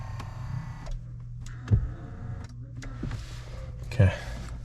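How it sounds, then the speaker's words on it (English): Electric steering column in a Mercedes C55 AMG motoring upward inside the car, a steady whirring motor hum with two short clunks as it moves and stops, close and moderately loud. "Let me also move the steering wheel up."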